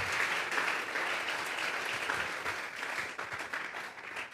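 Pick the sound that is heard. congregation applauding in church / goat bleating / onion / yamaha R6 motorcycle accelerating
congregation applauding in church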